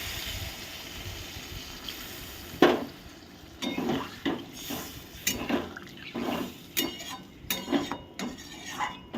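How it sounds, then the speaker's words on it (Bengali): Water goes into a pot of well-cooked spice paste for a rohu fish curry with potatoes, giving close, irregular bursts of sizzling and bubbling alongside the clink and scrape of stirring against the pan. "এবার আমি এর মধ্যে আউটে সেদ্ধ হওয়ার জন্য পরিমাণ মতো জল অ্যাড করছি"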